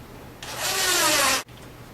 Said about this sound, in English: and drill right into our pre-drilled holes.